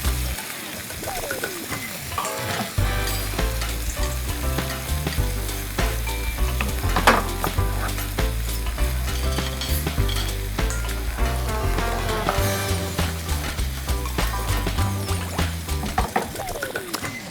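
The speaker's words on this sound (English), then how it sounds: "Stir fry." Vegetables stir-fried in a pan keep up a loud, continuous sizzle, with repeated scraping and clattering of stirring and a voice heard briefly over the frying.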